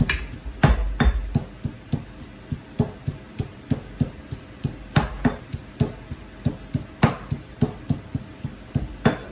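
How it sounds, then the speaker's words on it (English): Fresh ginger is pounded in a mortar for teriyaki sauce, producing a steady run of sharp, close thuds about two per second. A few strikes ring out louder with a brief hard, bright edge. "grind the ginger. I'm gonna grind with this one."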